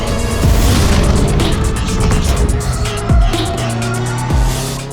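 A pack of race cars corners hard at speed on a circuit, with engines roaring loudly and continuously. Rising and falling revs, gearshift blips and quick drops in pitch pass close by, with no voices.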